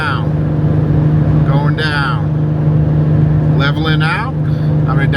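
A Jeep EcoDiesel drones steadily under load on a long uphill climb, heard from inside the cabin at a constant low hum while someone talks over it.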